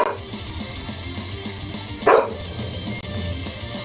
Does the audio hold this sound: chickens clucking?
no